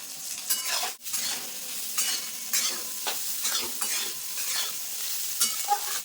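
Soybean chunks fry lightly with salt and turmeric in a pan, giving a bright crackling sizzle broken by repeated scraping strokes of a spoon, one sharp knock near the start, all close and without talk.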